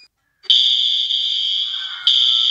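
Fire alarm in a My Talking Tom 2 game scene, a loud, shrill, steady electronic tone that starts abruptly after brief silence and retriggers once near the end.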